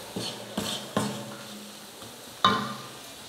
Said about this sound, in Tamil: இந்த மாதிரி நல்லா வதக்கிக்கோங்க.